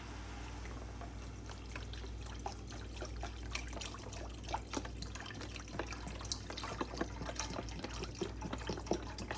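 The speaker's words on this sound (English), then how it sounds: "Go ahead and add the rest of the broth." Vegetable broth pours into a pot for a beefless stew, a soft steady trickle and splash with small drips and clinks, quiet and close, with no talking.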